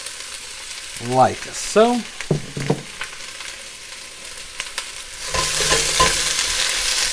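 Chopped onions dropped into a little olive oil in a hot pot, a few clunks and scrapes at first, then a rising bright sizzle in the last couple of seconds, with a short spoken remark.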